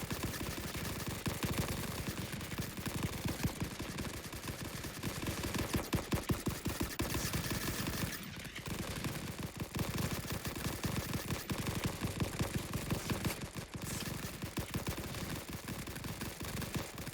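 Sustained, dense machine gun fire from a Great War battlefield in the sandbox game Rising Front, with rapid bursts rattling continuously and loudly, barely pausing throughout.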